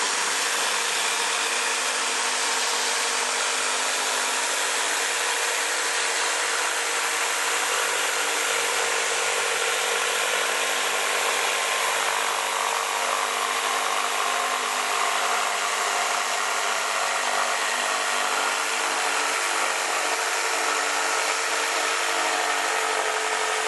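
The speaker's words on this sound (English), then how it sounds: "drilling a hole and then putting the jigsaw in and then going around" Jigsaw cutting wood around tight curves, a continuous close buzzing rasp that holds steady at high intensity for the full length, with no pauses.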